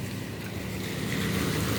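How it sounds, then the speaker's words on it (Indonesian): River water flowing beneath a bridge on the Kali Kapuk after an afternoon rain, a steady broadband rush of moving water with a windy, open-air character, continuous and fairly loud with no talk. "Dan air mengalir sepertinya lancar"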